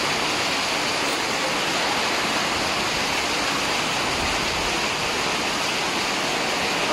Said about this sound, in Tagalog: Lumuhos na yung malakas sa ulan